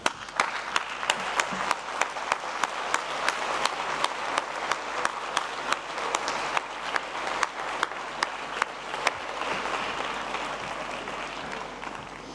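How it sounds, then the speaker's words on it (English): A graduation ceremony audience applauds steadily for over twelve seconds, a dense wash of many hands clapping at even loudness with a few sharper claps standing out near the front. "give them an enthusiastic, please, round of applause for their endless patience over the past 4 years"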